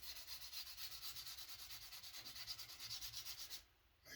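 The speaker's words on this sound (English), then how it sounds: "Make sure you're moving your sandpaper so you're using new sand." Sandpaper rubbed back and forth along a wooden bevel on a cigar box guitar build, making a quiet rhythmic scratching that keeps up steadily and stops just before the end.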